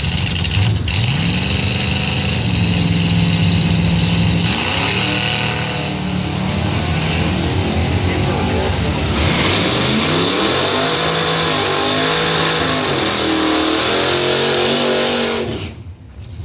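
Loud drag-strip launch of a 1974 Dodge Dart racing a competitor at Northern Michigan Dragway, engines revving hard and rising in pitch through gear changes for about fifteen seconds before cutting off abruptly.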